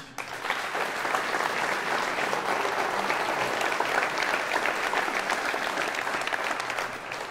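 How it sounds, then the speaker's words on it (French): An audience at a final campaign rally applauds loudly and steadily, a dense wash of clapping from a large crowd sustained for several seconds. "je vous demande d'applaudir très fort Monique Crucy"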